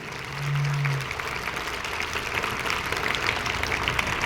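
An audience at a birth-anniversary celebration for Savitribai Phule breaks into sustained applause, a steady crowd of clapping hands filling the room, with a brief low hum near the start.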